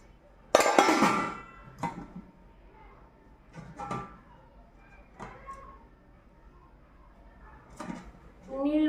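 A 24 cm Nirlon stainless steel kadai and its lid are handled, giving one clear metallic clang followed by several softer clinks and taps spread apart, with a quiet voice in the background.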